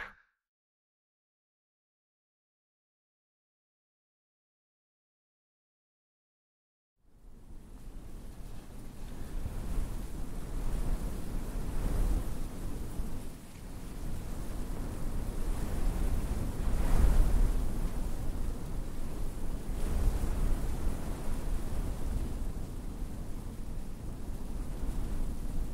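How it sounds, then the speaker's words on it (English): Wind sweeps across open prairie as a broad, rushing roar that rises and falls in gusts, loud and continuous after about seven seconds of silence. "What would the prairies be without wind? It's the keynote sound here."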